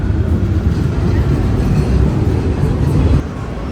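Metro train in a station in Medellín, a steady loud low rumble of the carriages running close by throughout, easing slightly near the end.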